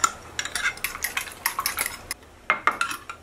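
Keto blueberry coconut pancake batter with egg is mixed in a bowl, rapid clinking and tapping of a utensil against the bowl in quick bursts, close and fairly loud, with no talking.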